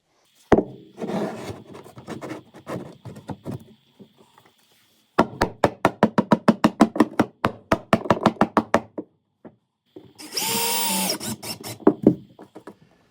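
A power drill drives screws into a 4x4 wood post on a staircase build: a rapid run of sharp ratcheting clicks, scattered knocks and handling, then a short high motor whine near the end, close and loud.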